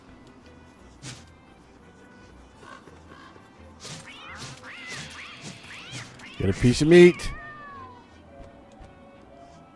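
Catcoon in the video game Don't Starve: Shipwrecked gives several high, bending meows, the loudest and busiest cluster near the end, over quiet game ambience while someone speaks briefly.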